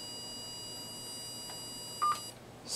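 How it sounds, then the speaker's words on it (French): A logic probe touched to a 5-volt supply line gives a short high-pitched electronic beep near the end, clean and close, with no one talking. "Si je touche un niveau 5 volts, donc dans ce cas-ci l'alimentation, la sonde m'affiche un niveau haut et elle me le fait entendre."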